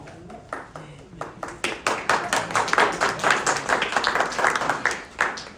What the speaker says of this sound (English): I think it's always good when you get applause before you said anything.